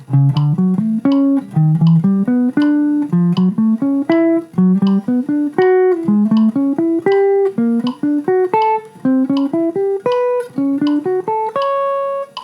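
A solo instrument plays a jazz half-step triplet exercise in the Barry Harris style: a steady stream of clear melodic notes climbing and falling in repeating chromatic triplet figures, alone with no voices.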